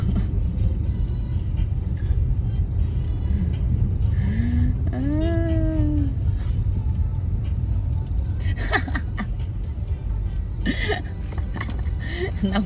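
Road traffic is heard from inside a moving car as a steady low engine and road rumble, with people talking over it and a brief whining tone partway through.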